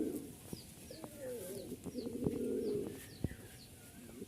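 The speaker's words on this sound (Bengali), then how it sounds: "এক জোড়া সবজি গিরিবাজ" A pair of green Giribaz pigeons cooing nearby, soft throaty rolling coos repeating under faint chirps from other birds and a few light clicks and knocks.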